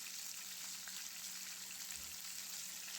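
Parshe fish fry in oil in a pan with a faint, steady crackling sizzle that runs unbroken and quiet throughout, with no voices.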